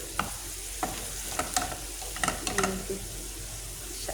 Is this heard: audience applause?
no